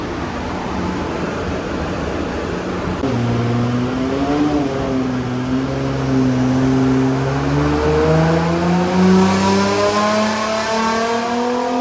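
Nissan R35 GT-R with a twin-turbo VR38 engine built past 1200 hp, running hard on a dyno: a loud, steady roar that climbs in pitch as it pulls through the revs, close and continuous, with no talk.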